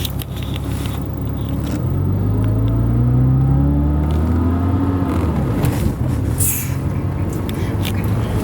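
A manual car restarts, then rumbles and revs as it pulls away in first gear, with the engine note rising steadily and sounding close and continuous.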